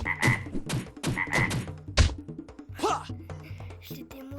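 Frogs croak in a video game set on a planet of dinosaurs, several loud, repeated croaks close by. Other game sound effects layer in among them.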